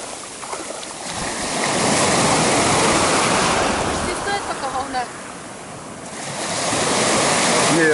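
Sea waves surge and break on the shore at Adler, a steady loud roar of surf that dips briefly midway and swells again, with faint voices at times.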